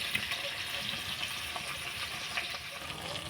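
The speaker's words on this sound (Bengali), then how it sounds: "আমার মাছ ভাজা হয়ে গেছে" Fish frying in a pan gives off a faint, steady sizzle with small crackles and pops, low in level and continuous, with no talking.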